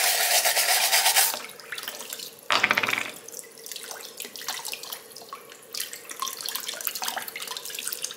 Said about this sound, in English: And I'm gonna scrub the shell out of here.